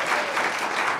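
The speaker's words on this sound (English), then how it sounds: "it's all right to applaud that" An audience at a live stage event claps together in a brief, dense burst of applause, close and steady, with no talk over it.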